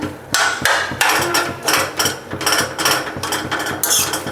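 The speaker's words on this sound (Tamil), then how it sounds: "அதனால் வந்து லைட்டாக வந்து மசிச்சு விட்டுடலாங்க" Cooked lentils and vegetables in a pot for Kerala-style erissery are mashed lightly with a utensil. The repeated rhythmic knocks and scrapes are close and fairly loud, with no speech.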